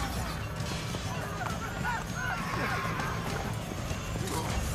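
A horse in the video game Assassin's Creed Brotherhood, with hoofbeats and a whinny blended into a busy mix of game action and sound effects.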